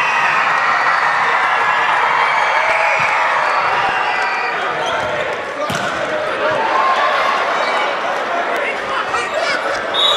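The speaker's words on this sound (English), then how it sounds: "the crowd comes to their feet for the first of 4 set points" A packed arena crowd at a UCLA at Stanford NCAA women's volleyball match in 2014 roars steadily on its feet at set point, loud and sustained, with a few sharp thuds inside the noise.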